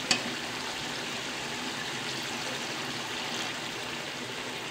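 Half a cup of water poured into fried masala for Sindhi biryani, a steady close splash and trickle running without a break from a sharp start, with no talking.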